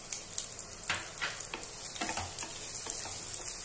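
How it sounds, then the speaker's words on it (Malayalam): Green chilies sauté in a pan for ridge gourd chutney, giving a close, steady sizzle broken by soft stirring scrapes and faint ticks. "3 പച്ചമുളകും കൂടെ ഇതിന്റെ കൂടെ ചേർത്ത് കൊടുക്കുകയാണ്."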